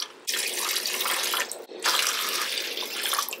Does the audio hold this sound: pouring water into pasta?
yes